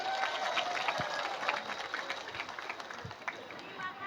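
An audience at a Javanese religious gathering in Purworejo, Central Java, claps in a brief, moderately loud burst of scattered hands, with murmuring voices and talk mixed in.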